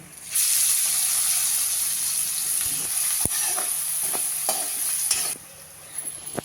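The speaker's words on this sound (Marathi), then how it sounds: "कांदा आपण फोडणीला घातलाय" Chopped onion drops into hot spiced oil tempering with turmeric, neem and carom seeds, bursting into a loud steady sizzle that runs several seconds with scraping stirs, then drops off abruptly.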